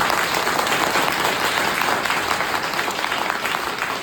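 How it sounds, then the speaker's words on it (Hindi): An audience at a network marketing seminar in India bursts into applause, a dense, sustained clapping from a sizable crowd that stays loud and even throughout. "एक बार उनके लिए ताली बजा दो"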